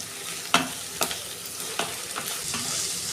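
Two large chopped onions fry in oil in a pan for an egg tadka, crackling under a constant sizzle with four or five sharp stirring clacks at close range.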